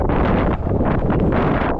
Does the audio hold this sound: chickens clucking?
no